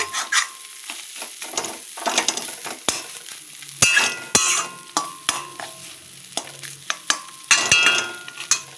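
Spices fry in a pan for a Catla fish omelette filling and are stirred steadily, giving a close, continuous sizzle broken by repeated scraping strokes of the spoon, with no voices.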